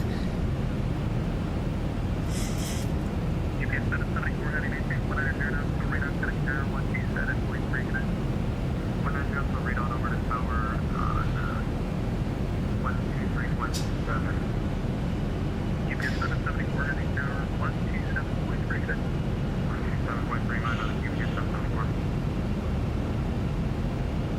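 A simulated Boeing 737-800 descends to land with its landing gear down and flaps set, giving a steady, unbroken roar of cockpit and airflow noise while someone talks intermittently over it.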